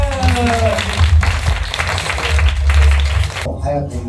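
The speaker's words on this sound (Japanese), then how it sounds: "大きな拍手お願いします" Audience clapping at a live music show during a performance run's final day, heard under a loud voice and a droning hum, with a brief quieter gap near the end.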